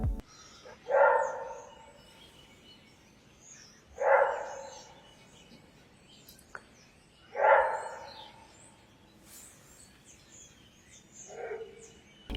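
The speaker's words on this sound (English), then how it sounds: "Maned wolves have a very unique vocalization called a roar bark." Maned wolf at the Endangered Wolf Center giving roar barks: three loud, drawn-out yelling barks spaced about three seconds apart, then a fainter fourth, heard alone against quiet outdoor background.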